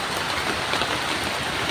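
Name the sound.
heavy rain falling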